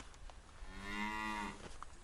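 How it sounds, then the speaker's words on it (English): A cow lets out one long, low, steady moo, about a second in duration, from some distance along a dirt road, over quiet outdoor ambience with faint clicks. "I got one cow buddy over there."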